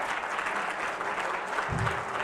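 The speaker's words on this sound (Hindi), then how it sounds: "एक बार जोरदार तालियां" Audience applause at a professional speaking event, dense steady clapping from a seated crowd filling the short moment at even loudness.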